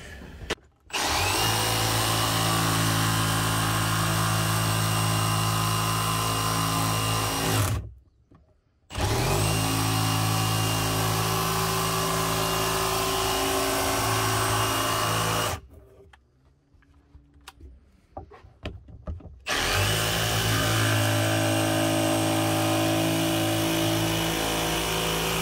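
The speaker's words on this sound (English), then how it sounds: "we're probably just gonna go ahead and cut that with a jigsaw." Jigsaw cutting a small piece of vinyl plank flooring, a loud steady whining buzz running in long stretches with brief pauses between cuts.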